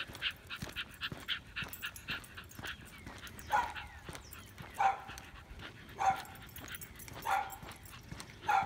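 A small excited dog out on a walk gives a run of short yips and whimpering bow-wow barks, several spaced bursts close by with no talk over them.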